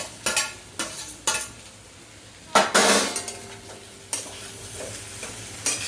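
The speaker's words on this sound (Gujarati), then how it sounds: "એ નાખી દઈએ અને હલાવી દઈએ બરાબર" A spoon stirs potatoes into onions and spice masala in a pan. Sharp clanks and scrapes come every second or so over a soft, low sizzle, close to the listener. No voices.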